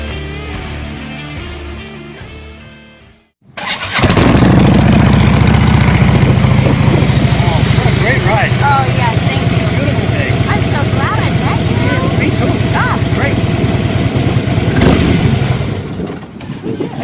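A motorcycle engine fires up after a brief pause, then runs loud and close with a rough, revving roar that holds for many seconds before easing slightly.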